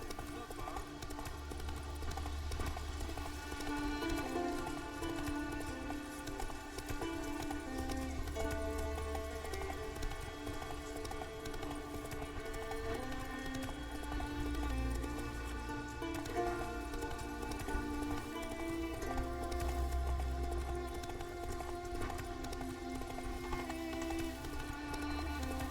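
A horse gallops in The Witcher 3, with steady, rhythmic hoofbeats running continuously under a layered music score at moderate volume, with occasional voices.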